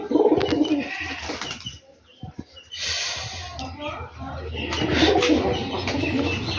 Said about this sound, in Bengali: এই যে আমার সেই কালো মাস্টার পেয়ার কবুতর